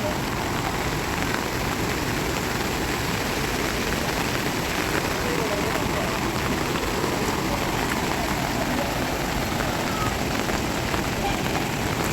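Steady heavy rain drums down without letup beside a flooded highway, a loud, even wash of falling water throughout.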